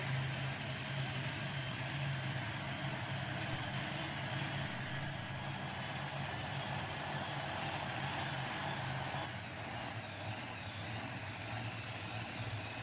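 A modified pulling tractor named Cotton Candy, with twin blown Hemi engines rated at 3,200 horsepower each, from McAdoo, Texas, rumbles at a steady heavy drone from a distance, with a constant broad roar and no distinct revving peaks.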